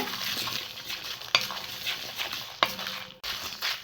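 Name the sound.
dry roasting red chillies and curry leaves without oil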